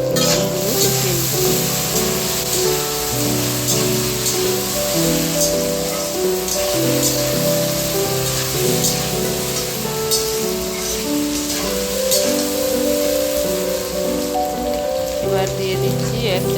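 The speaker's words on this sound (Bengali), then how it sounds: "আলুগুলো দিয়ে ভালো করে কষিয়ে নেব" Potatoes sautéing in a pan for a vegetarian chickpea dal: a loud, constant sizzle and crackle like rain on a surface, with a faint voice and a steady hum beneath.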